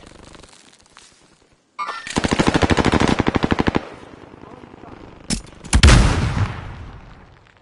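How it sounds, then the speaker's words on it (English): Rapid SMG bursts in a shooter video game: a loud, evenly spaced string of shots lasting about two seconds, then a single sharp shot and a heavier boom that fades out. "He's shooting me."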